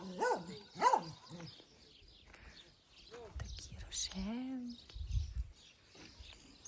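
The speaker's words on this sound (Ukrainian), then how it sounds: "Собачка гавкає." A small dog barks twice in quick succession close by outdoors near a flower bed, then quiet voices talk and faint background sounds follow.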